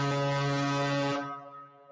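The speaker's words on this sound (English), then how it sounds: "He gets the big foghorn for that." A loud, deep foghorn sound effect blasts as one sustained, steady tone for about a second, then cuts off and leaves a fading echo.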